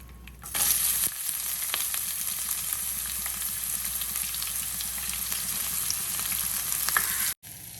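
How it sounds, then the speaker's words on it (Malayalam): Onions and curry leaves frying in hot oil in a pan with dried red chillies for idli upma, a loud steady sizzle with light stirring scrapes, close and uninterrupted until a brief cut near the end. "ഇനി അതിലേക്ക് ഉള്ളി ആഡ് ചെയ്ത് കൊടുക്കാം"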